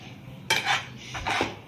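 Two quick scraping clinks of a utensil against a pot sound close up while masala is mixed into ramen noodles, with a faint low hum in between.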